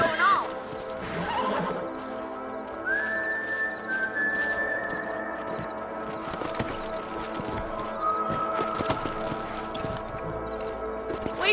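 Horses in the video game Red Dead Redemption whinny and neigh over the steady clip-clop of hooves, with a rising whistle-like call and a busy outdoor background throughout.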